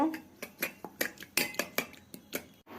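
Two eggs with salt and sugar are beaten in a bowl, giving a quick, regular run of bright clinks and taps from the utensil against the bowl, close and distinct with brief gaps between strokes.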